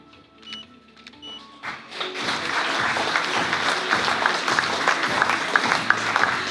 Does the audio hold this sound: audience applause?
yes